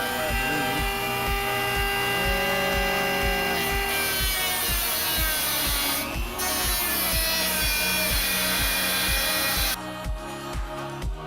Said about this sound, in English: So we went ahead and took the Dremel out,